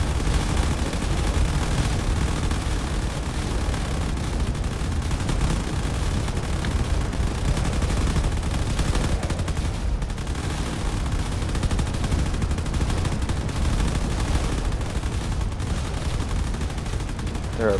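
Railgun and turret fire from battleships in the Drone Wars video game forms a dense, continuous roar of rapid gunfire and blasts that stays loud and unbroken throughout.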